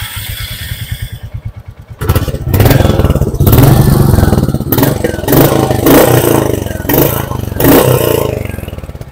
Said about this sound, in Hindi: बाइक का एक बार साउंड हम चेक कर लेते हैं